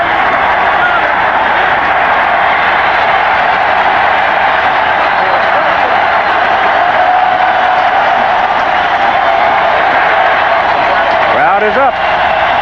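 Dense, continuous roar of a stadium crowd at a 1985 USFL football game between the Stallions and the Bulls, a broad wash of cheering and clapping that holds steady and swells slightly, with a commentator talking over it.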